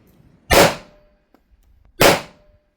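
Two sharp, loud pistol shots from a .45 caliber 1911 ring out about a second and a half apart, each a crisp crack with a brief decaying tail and near silence between them.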